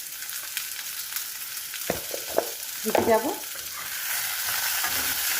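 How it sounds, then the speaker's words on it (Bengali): Fish frying in a pan with salt and turmeric gives a steady sizzle, with a few sharp utensil clinks and stirring scrapes and a brief spoken phrase near the middle. "এবার এটাকে ভাজবো, ভালো করে ভেজে নেব"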